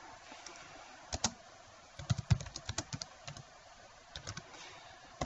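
Typing on a computer keyboard while using AutoCAD 2015 software, with quiet, irregular clusters of key clicks in short bursts, heard alone.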